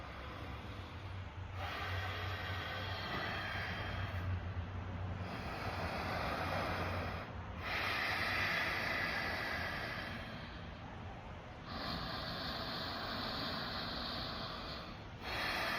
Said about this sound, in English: thinking about Ujjayi breath, which is, basically you create an ocean sound